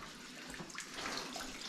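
Clear spring water pours steadily from a pipe inside a muddy cave in the Ozark Mountains, a soft continuous wash of flowing water heard up close without speech.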